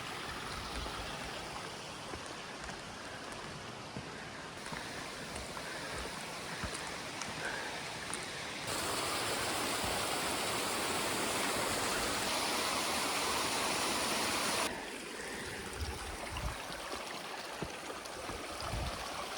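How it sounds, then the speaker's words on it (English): Mountain river flowing beside a hiking trail near Nambe Lake, New Mexico: a steady, loud, broadband rush of water that swells louder midway, with no talking. "So now I'm just following the river."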